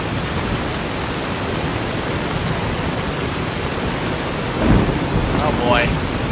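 Heavy rain pouring in Fallout New Vegas, a loud dense steady hiss with a low rumble of thunder swelling near the end, accompanied by brief sweeping sounds.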